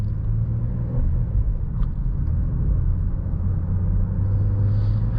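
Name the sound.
2020 Acura MDX SUV driving through a corner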